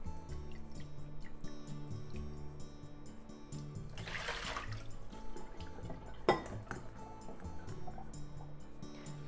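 Water from boiled potatoes pours out in a steady rushing stream for a few seconds, with a single sharp clank of pot or colander partway through, over faint ongoing kitchen background.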